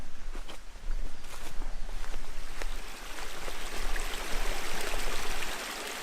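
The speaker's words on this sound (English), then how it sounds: "Waterfalls are always interesting, no matter how small they are" A small woodland waterfall gives a steady, close rush of splashing water. A few light footstep-like knocks are heard through it, and it eases slightly near the end.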